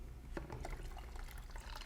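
Liquid concentrate is poured into a container already holding about nine cups of water for a black oxide coating bath, giving a steady close splashing pour that runs through the whole short stretch.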